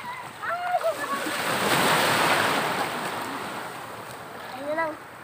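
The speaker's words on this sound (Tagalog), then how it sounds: "May alon." Sea waves wash and splash around a small boat on the water, a steady surf roar with wind buffeting the microphone and faint voices in the background.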